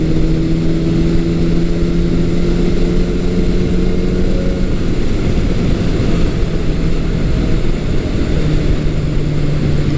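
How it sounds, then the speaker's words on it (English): Suzuki GS550 motorcycle with dual exhaust riding along a road, giving a steady droning engine note with low harmonic tones that shift partway through, loud and continuous throughout with no talking. "this Suzuki, the dual exhaust actually sounds pretty good out on the road"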